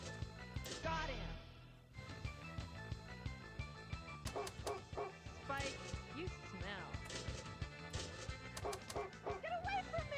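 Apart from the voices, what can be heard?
dog barking in Pinball FX3 Fallout table, video game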